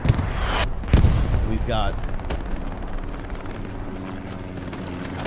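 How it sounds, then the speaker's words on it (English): Artillery shells land on a trench on Omaha Beach in Hell Let Loose: a couple of heavy booms in quick succession, then rumbling battle noise while someone talks briefly. "our artillery guy. He's got marks on this trench. And there they start landing."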